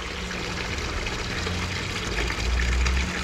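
Aquarium water pump running as a tank is topped up with water, a steady close rushing and trickling wash of flowing water throughout with a low hum underneath, no voices.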